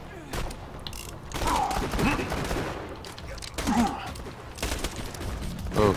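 Gunfire from a shotgun in the video game Borderlands 2 crackles through repeated bursts with an explosive boom, mixed with game effects while players talk over the action.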